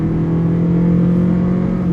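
A car's engine drones steady and loud under wide open throttle, a deep sustained hum with road noise inside the cabin.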